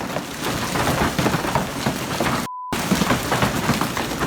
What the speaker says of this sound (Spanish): Parece como si alguien estuviera disparando al estanque desde el cielo, pero es el granizo que cayó en Colorado